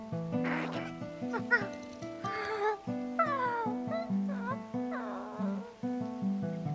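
A creature in the video game Infinity Nikki meows five times in a row, each call a distinct, drawn-out, rising and falling cat-like cry, with a soft musical tone running underneath.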